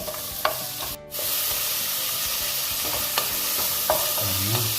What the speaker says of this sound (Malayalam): അപ്പോൾ ആദ്യം നമുക്ക് സവാള ഇട്ട് കൊടുക്കാം